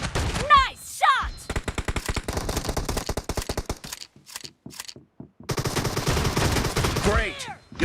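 Rapid gunfire from an M1014 shotgun in a shooting video game, loud bursts of repeated shots in quick succession with short pauses, mixed with game sound effects and brief announcer-like voice snippets.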